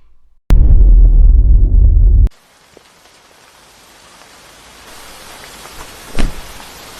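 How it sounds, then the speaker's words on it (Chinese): Heavy rain falling outdoors, a loud dense roar for about two seconds that then drops to a much quieter steady patter with a faint low rumble near the end. "下这么大雨"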